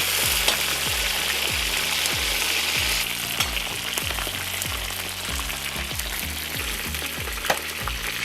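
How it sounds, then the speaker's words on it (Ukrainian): Continuous crackling sizzle of lamb pieces frying in oil, close and steady, with a regular low thumping underneath and no talking. "І так поступово смажимо все м'ясо."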